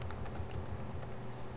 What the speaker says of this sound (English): here I just type my password